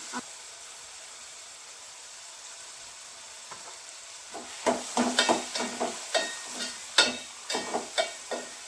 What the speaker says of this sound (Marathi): डाळ थोडी तेलामध्ये भाजायला पाहिजे